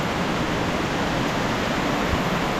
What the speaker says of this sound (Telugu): చాలా వాటర్ఫాల్ చాలా ఉంది ఇక్కడ.